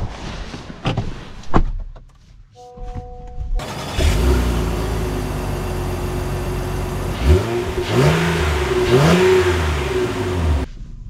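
A 2024 Honda Ridgeline Black Edition truck starts up after a few clicks and a thud, its engine catching loudly and holding a steady idle hum with a couple of swelling revs.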